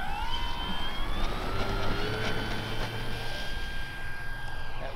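Engine whine of an RC warbird model plane taking off from grass, a steady high-pitched motor tone rising in pitch over a broad constant roar, loud and close throughout with no talk.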